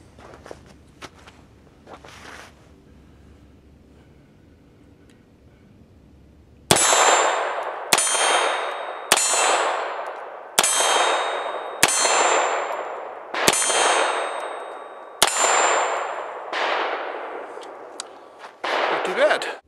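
Rounds from a Star Super B 9mm pistol strike steel targets: about ten sharp gunshots, each followed by a ringing metallic clang, fire at a steady pace after a quiet stretch of faint shuffling and movement.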